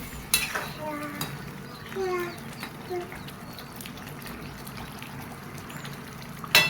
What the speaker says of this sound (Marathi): आता व्यवस्थितरित्या आपण ते हलवून घ्यायचे, एकजीव करून घ्यायचे